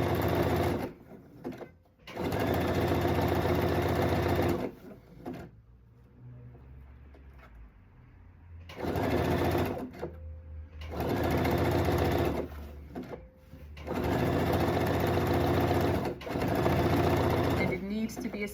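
A sewing machine runs a zigzag stitch on stretchy blue mesh fabric in several bursts of rapid whirring, broken by short pauses where a voice speaks quietly.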